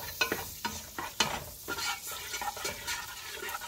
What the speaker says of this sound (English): so you're gonna melt that butter